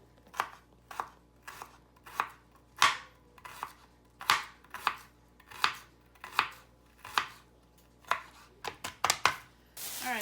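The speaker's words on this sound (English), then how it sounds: "it's different ways of chopping an onion, and this is the way I do mine" A knife chopping an onion on a cutting board in a home kitchen, a steady run of crisp, close thuds about once a second that quickens into a rapid burst near the end, with no talking.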